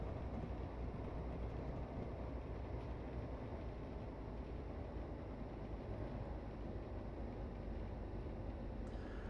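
Train rumbling steadily under braking on the Midland Main Line in a train simulator game, a continuous low broadband roar at moderate level with no distinct events and no voices.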